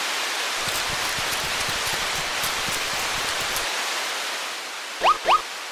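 Steady hiss of rain falling in an animated cartoon, a constant wash of drops with no talk, ending in two short rising tones.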